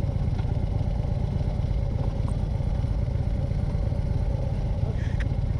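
A motorcycle engine idles steadily nearby, a continuous low rumble with faint clatter over it and no talking.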